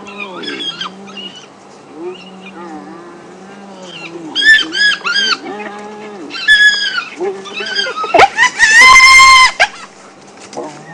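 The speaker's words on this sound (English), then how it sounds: "one of the cubs was squealing frantically now" Frantic high-pitched squeals and shrieks from a wild cub burst out repeatedly on safari, rising to a loud, urgent squealing, with quieter grunts and calls between the outbursts.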